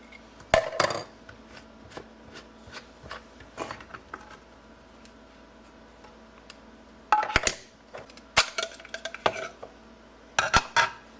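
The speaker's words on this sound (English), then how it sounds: "take your Survivor Filter Pro completely apart and rinse it all very well" Plastic parts of a Survivor Filter Pro water filter being taken apart and rinsed: scattered clicks, knocks and clatters in bursts, with quiet running water between and no voices.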